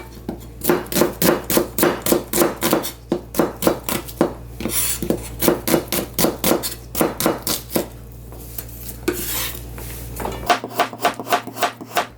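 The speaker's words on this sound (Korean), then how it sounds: "양파는 채 썰어 주시고요" A knife cuts onion into thick strips on a cutting board, giving loud, close, rapid rhythmic chops that run in steady bursts with brief pauses and no voices.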